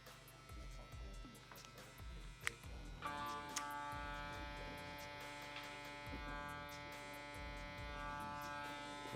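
Electric hair clippers buzz steadily and close up while cutting hair during a faux hawk fade, a constant humming drone that grows louder and brighter partway through.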